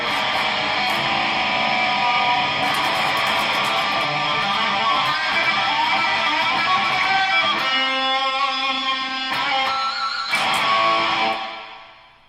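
A dense, distorted electric guitar plays loud sustained chords with a full, buzzing tone, then cuts off abruptly near the end.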